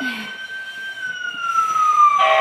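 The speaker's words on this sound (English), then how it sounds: "The siren is on." A toy fire truck siren wails with a steady electronic tone that slowly slides lower, close and fairly loud, with no talking.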